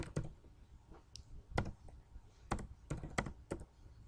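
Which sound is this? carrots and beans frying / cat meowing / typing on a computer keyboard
typing on a computer keyboard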